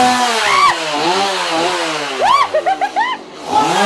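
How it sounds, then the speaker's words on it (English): A chainsaw engine revving up and down close by at a haunted forest attraction, its pitch rising and falling in quick surges and short bursts. "F these chainsaws."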